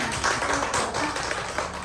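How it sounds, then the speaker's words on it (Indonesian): Teachers at a growth-mindset dissemination session give a short round of hand clapping, fairly quiet and scattered with some individual claps standing out, no talk over it. "Tepuk tangan"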